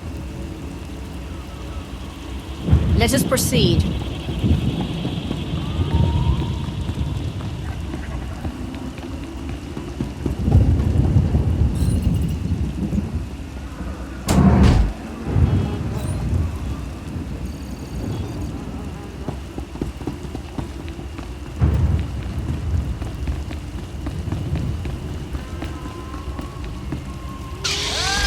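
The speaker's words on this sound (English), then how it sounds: "Hard to track them through the storm. Rain's wiped out the trail." Rainstorm in Star Wars: The Old Republic, steady rain hissing throughout with several heavy rolls of thunder, while a voice speaks briefly over it.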